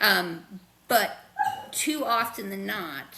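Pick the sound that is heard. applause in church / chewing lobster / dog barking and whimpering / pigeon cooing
dog barking and whimpering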